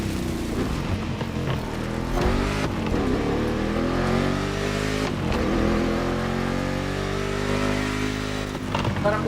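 A road car pushed through mud in the racing game The Crew Motorfest, its engine droning loud and steady throughout, pitch climbing and dropping with repeated revving and gear changes, with no voices over it.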